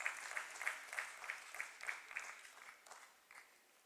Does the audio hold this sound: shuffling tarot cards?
no